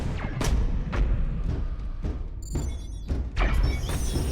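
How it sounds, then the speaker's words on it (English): Turret gunfire in Warhammer 40,000: Space Hulk Deathwing, heard as a steady run of heavy, booming thuds about every half second at close range with no talk. "That's a turret."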